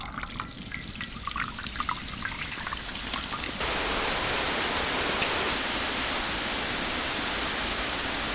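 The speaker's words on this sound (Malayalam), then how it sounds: "ഇനിയപ്പോൾ നമുക്ക് ബാറ്ററി എണ്ണയ്ക്കകത്തോട്ട്" Boondi batter for golden boondi laddu ladled into hot oil and frying, a loud, steady sizzling hiss that jumps up sharply partway through after quieter clinking.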